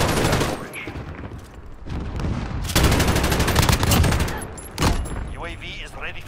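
Loud bursts of automatic gunfire and heavy shots in a Call of Duty Modern Warfare match, firing in dense volleys with short gaps, plus game radio voices and a brief electronic chirp near the end.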